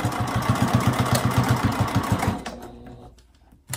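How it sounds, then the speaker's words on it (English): A sewing machine stitches along the bottom edge of an ID badge holder, its fast steady needle rhythm close and loud for over two seconds before stopping, leaving faint handling noise. "And then I'm getting closer to the bottom, so I'm just gonna, again, backstitch. Sewing along the bottom edge."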